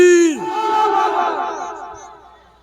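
A large crowd at a madrasa gathering roars a loud unison chant answering a call, one sustained swell of massed voices that slowly fades out.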